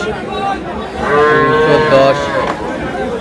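At Aftabganj cattle market in Dinajpur, a dairy cow lets out one loud, close, drawn-out moo over a faint market murmur, where cows and calves are for sale.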